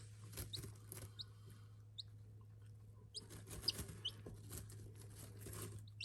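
Brown Pit bantam chicks and hens cluck and peep in short, scattered bursts through a steady low hum, with a busy stretch in the second half and no talk.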